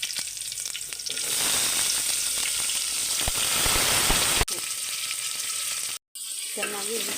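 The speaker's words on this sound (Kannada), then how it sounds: "ಸ್ವಲ್ಪ ಹೊತ್ತು ಫ್ರೈ ಆಗೋವರೆಗೆ ಬಿಡಬೇಕು. ಈ ಥರ ಈರುಳ್ಳಿ ಫ್ರೈ ಆಗಬೇಕು." Onions sizzle in hot oil with mustard seeds, cumin and curry leaves, a loud, close, hissing crackle that suddenly drops to a quieter fry, cuts out briefly, then resumes.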